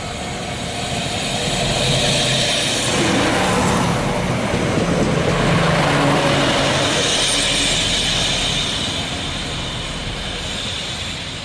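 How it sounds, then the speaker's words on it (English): A North County Transit District Sprinter diesel multiple unit, a Siemens VT642 Desiro, rumbles past loudly, its roar swelling to a peak midway and then easing off steadily with no talking. "the North County Transit District's Sprinter DMU trains"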